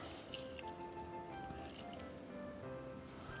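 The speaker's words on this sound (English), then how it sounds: "I'm not even gonna measure my lime juice going in" Roughly 15 to 20 ml of lime juice poured unmeasured into a rum-based Christmas cocktail, heard as a brief liquid trickle and drip over a steady background hiss.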